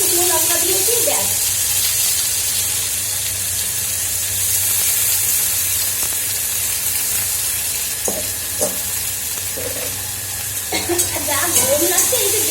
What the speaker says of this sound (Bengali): জল ঝরিয়ে উচ্ছে আলু পেঁয়াজ সব দিয়ে আজকে বানাবো ভাজা